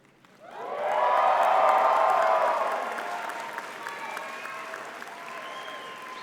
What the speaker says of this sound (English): stand up and turn around and look at them and cheer for them